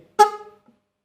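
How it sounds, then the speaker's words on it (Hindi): A car horn on a repair bench, fed by an underpowered adapter, gives one short, close honk that cuts off quickly, followed by a faint brief blip. "एक दफ़ा बजता है उसके बाद टूट टूट शुरू कर देता है।"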